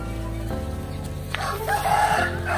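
A white Aseel rooster in a backyard crows once, fairly close, over a steady low hum of background noise.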